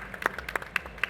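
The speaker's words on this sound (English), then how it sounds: "Round of applause." A conference audience applauds with a few scattered, uneven claps in a short, sparse burst at moderate distance.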